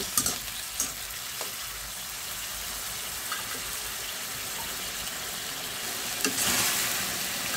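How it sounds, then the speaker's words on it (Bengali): Baim fish and potatoes fry and cook down in a pan, a continuous close sizzle with occasional stirring clatters and spatters that swell near the end. "এখন এই আলুর সাথে আমি এটা 5 মিনিটের মতো কষিয়ে নেব।"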